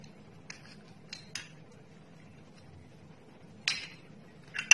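A spoon clinks faintly against a pan while jaggery is added and mixed, a few sparse light taps and scrapes over quiet background, no talk.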